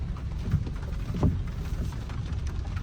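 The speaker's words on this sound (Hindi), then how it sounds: "बारिश काफ़ी तेज़ हो रही है इस रोड पे।" Heavy rain pouring on a highway during a road trip by car, a dense steady hiss and patter with a couple of louder low thumps, no talking.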